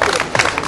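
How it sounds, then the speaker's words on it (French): Loud, close audience applause at a sports club event fills the moment with a thick, crackling patter of many hands clapping together. "Je vais les applaudir et le remercier d'être venus."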